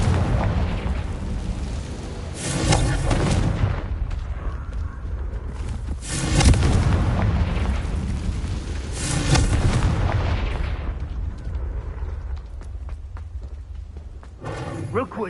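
Confringo blasting spells go off in the video game Hogwarts Legacy, giving several loud booming explosions with rumbling tails at irregular intervals, mixed with game sound effects and speech.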